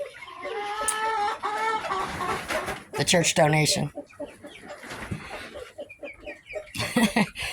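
Chickens and cockerels cluck steadily on a backyard flock's ground, fairly close, with a crowing burst partway through, while a person talks over the birds.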